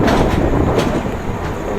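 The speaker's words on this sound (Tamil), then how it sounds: "இங்கே வந்து இப்போ ட்ரெயின் வந்து இருந்துச்சு" A train at a railway station en route toward Kanyakumari rumbles steadily and loudly, with faint rail clatter close by.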